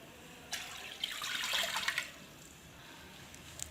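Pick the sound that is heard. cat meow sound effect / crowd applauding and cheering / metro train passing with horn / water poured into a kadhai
water poured into a kadhai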